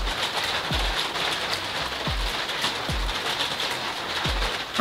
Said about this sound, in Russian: Только успел закончить, и дождь пошел.